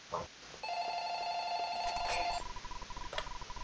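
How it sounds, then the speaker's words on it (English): A telephone rings inside a Roblox game, a bright electronic bell tone sounding steadily for nearly two seconds before cutting off, followed by fainter beeps. "Phone."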